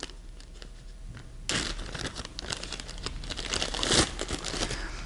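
Plastic bag from a tool haul of Snap-on and Craftsman tools, handled and crinkled up close: quiet rustling at first, then louder, busier crinkling with a sharp peak near the end.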